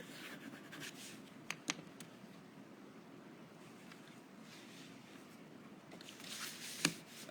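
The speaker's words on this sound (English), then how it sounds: "And then I would take your bone folder and crease it again." A bone folder creases folded paper, soft close rubbing and scraping strokes with a couple of small taps, building to a brief sharper swipe near the end, quiet throughout.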